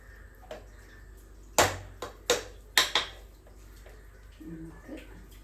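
Metal clanks of a pressure cooker lid being opened and a curry stirred, a few sharp close knocks and scrapes in quick succession amid quiet kitchen background.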